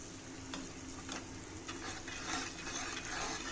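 Cooked rice is stirred into a mint (pudina) mixture with ghee in a hot pan, giving a steady sizzle under repeated scraping stir strokes, close and continuous, with no talk.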